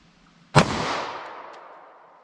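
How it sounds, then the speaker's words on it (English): A single sharp .45 ACP gunshot firing Federal Punch ammunition into ballistic gel, loud crack followed by a long decaying echo that fades over about two seconds; no talking. "Now let's hit it with our 45 ACP."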